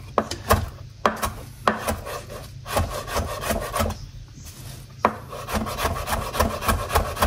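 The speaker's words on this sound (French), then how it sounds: "Alors, hacher le persil." Parsley being chopped finely with a knife on a board for grandmother's chicken vermicelli broth, a run of sharp rhythmic taps and scraping strokes, close and clear, no talking.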